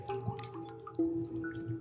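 Water drips steadily in the video game Stray, a faint series of small plinks over a low ambient hum and soft game music.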